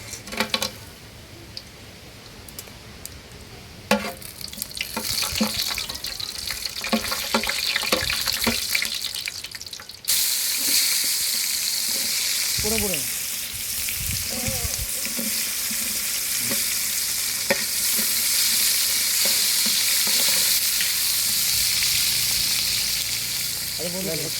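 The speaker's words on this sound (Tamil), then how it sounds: "எண்ணெய் ஹீட் ஆயிடுச்சு பட்டை சேர்த்துக்கலாம்" Cinnamon sizzles and fries in hot oil in a pan for biryani, a steady loud crackle that rises sharply partway through and stays dense, with occasional clatter of a utensil.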